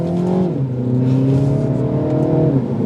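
A 2022 Mini Cooper S with a 7-speed dual-clutch transmission accelerates in sport mode, its engine droning loud and steady from inside the cabin, with the pitch stepping up and down as gears change.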